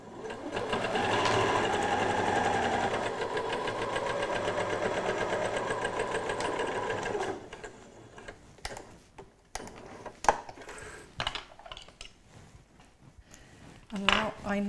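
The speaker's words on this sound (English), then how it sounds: "So just forward and back to lock the stitches and then sew the seam." A sewing machine stitches a seam on a fabric cushion, running in a steady close mechanical whir for about seven seconds. Softer handling noises and faint clicks follow as the fabric is moved.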